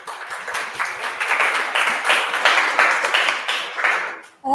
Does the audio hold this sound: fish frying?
no